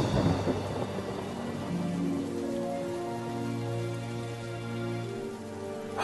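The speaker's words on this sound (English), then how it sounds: "That night, a storm came." Thunderstorm with rain on a surface, a steady loud wash of rainfall with thunder rumbling throughout, set against a layer of sustained tones with no talking.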